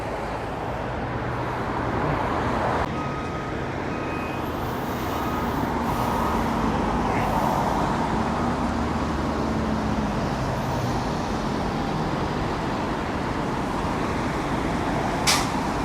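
Busy road traffic and buses near a bus depot by Foyle Street at the old Derry City docks, a loud continuous rumble of passing vehicles with a faint hiss and brief tonal whines.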